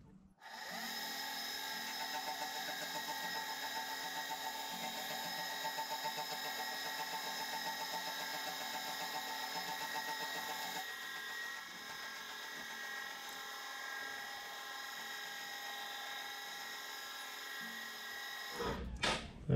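A boring and facing head cuts metal on a machine spindle turning at about 115 RPM, producing a steady, continuous whining drone close by that holds for most of the span before stopping abruptly.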